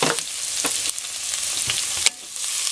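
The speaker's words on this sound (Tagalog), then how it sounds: "So, ang gagawin natin, yung oil, lagay natin itong garlic. So, gigisahin natin yung ating putsero." Minced garlic sautéing in hot oil as the base for pork pochero: a steady close sizzle with a few sharp stirring clicks, no voices.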